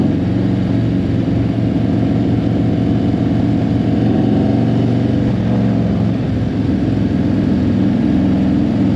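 A motorcycle with aftermarket pro pipes at the Americade rally, its exhaust throbbing in a loud, deep, steady rumble close by, with slight swells in revs and no talking over it.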